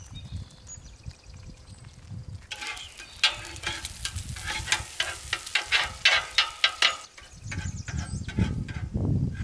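Eggs scrambling with onions in a pan for breakfast burritos at an outdoor cabin camp, sizzling steadily with a burst of sharp scraping and stirring clicks in the middle, then low rumbling handling noise at the end.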